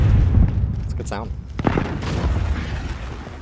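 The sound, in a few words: C4 explosive detonating in a video game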